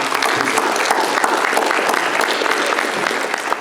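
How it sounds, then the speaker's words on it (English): Sustained applause from an audience at a community education forum, dense and steady clapping filling the whole stretch at close range, with no speech over it. "You deserve a round of applause for all you're doing."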